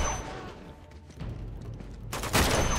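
Gunfire from the video game Uncharted 2: Among Thieves, a dense burst of loud shots and booms in a game firefight, swelling sharply near the end.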